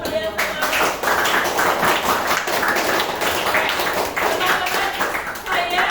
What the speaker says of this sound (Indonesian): Terima kasih tepuk tangan untuk kalian semua